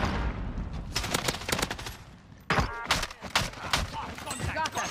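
Rapid bursts of video game gunfire from a MAC-10 or CW MP5 session, loud and repeated in clustered volleys with a brief lull, under excited talk.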